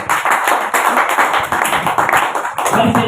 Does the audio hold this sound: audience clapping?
yes